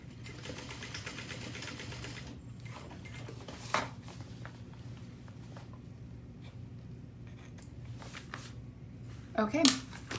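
Home sewing machine basting fabric for a business bag, heard as a quiet, steady mechanical whir in the background, with a few handling clicks and a brief clatter near the end.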